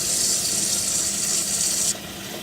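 Water rushing steadily out of an under-sink drinking water filter being flushed of sediment, a bright continuous hiss that drops abruptly to a softer flow near the end.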